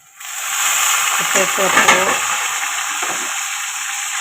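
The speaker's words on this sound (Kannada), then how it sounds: "ಶೇಂಗಾ ಎಣ್ಣೆ ಹುರ್ಕೊಂಡು ತಗೋಬೇಕು ಶೇಂಗಾ ಹುರಿ ಹುರಿ" Peanuts frying in oil in a pan give a steady, close hiss and sizzle that rises quickly and carries on evenly, with a few faint stirring scrapes partway through.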